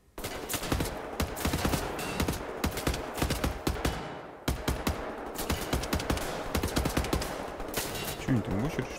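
Rapid gunfire bursts crackle through a fight in the shooter Wolfenstein: The New Order, loud repeated volleys with a short lull midway, mixed with game effects.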